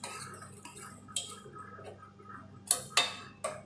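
A spoon stirs greens (keerai) and lightly roasted lentils in a cooking pan, giving a few sharp, scattered metallic clinks and scrapes against the pan over a quiet background.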